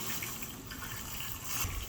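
Water poured into the radiator of a 1952 John Deere AH Hi-Crop tractor, a steady close rushing gush that holds evenly throughout and swells slightly near the end.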